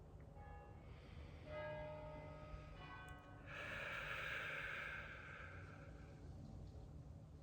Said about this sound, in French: on vient d'entendre les cloches de l'église